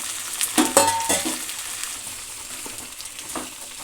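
Tomato and cucumber pieces sizzle in hot oil in a pan, with a few sharp stirring scrapes early on, then a softer steady fry fading lower toward the end.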